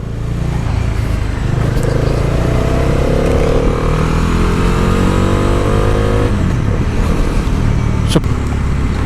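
A Bajaj Dominar 400 BS6 motorcycle rides along a main road, its engine droning loudly and steadily with rising and falling revs as it accelerates through gears, heard close with constant wind and road noise.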